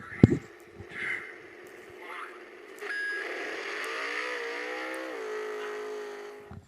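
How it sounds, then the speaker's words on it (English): An engine revs up sharply as the vehicle loses traction at the start, holds a high whining pitch, then drops back down, heard from a distance with voices talking over it. "sounds like he lost traction right there at the start. the revs kind of jumped up a little bit and then came back down"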